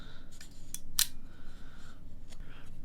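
Shutter of a 1947 Crown Graphic camera firing at several speeds, a series of sharp mechanical clicks and snaps spaced unevenly, close and fairly quiet with no talk.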